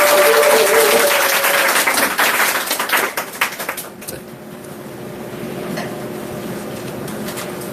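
A lecture audience claps loudly to welcome a branch manager to the stage, a dense burst of applause that thins into scattered claps and then quiet room tone.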